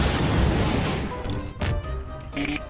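A bomb blast from a rooftop in Garry's Mod booms loudly at once, then rumbles and decays with scattered crackling debris and faint game tones.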